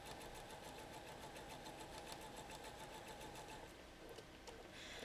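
A sewing machine stitches quilt segments for a Lone Star quilt, running steadily and continuously with a fast, even mechanical whir that stays close and fairly loud throughout.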